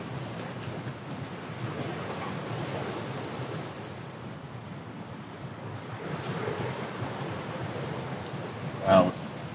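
Strong wind gusts and downbursts roar in a continuous rushing wash during a rainstorm at a backpacking tent, swelling and easing, with a brief louder thump near the end.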